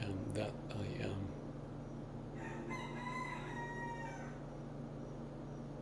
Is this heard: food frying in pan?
no